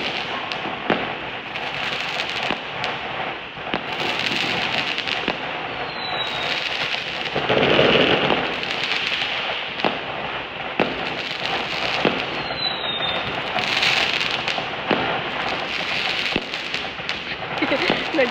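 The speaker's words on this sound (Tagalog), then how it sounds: "Grabe yung putok doon, no?" Fireworks and firecrackers burst in a steady, loud barrage at close range on the last day of Chinese New Year, with dense crackling throughout, a heavier flurry midway and a couple of whistling rockets.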